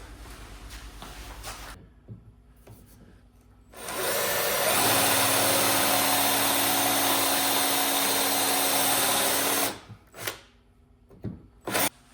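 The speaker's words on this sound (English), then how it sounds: "what I've got is my plug cutter installed in my drill and some leftover 2x4" A power drill fitted with a plug cutter whines loudly for several seconds as it grinds into a leftover 2x4, with quieter clicks and handling noises before and after.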